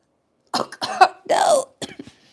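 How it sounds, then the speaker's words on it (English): After smoking weed, a person gives a close, harsh series of about five coughs in quick bursts with a strained, raspy hack in the middle. "It's a weed cough, not a COVID cough."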